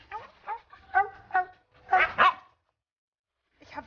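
A dog barks repeatedly during a football game outdoors, about six sharp, close barks in an irregular run, the last pair loudest, then a pause and one more bark starting at the end.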